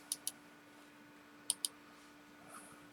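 A computer mouse being right-clicked: two quick pairs of crisp, close, faint clicks, each pair a fraction of a second apart, separated by quiet, with a soft faint tick near the end.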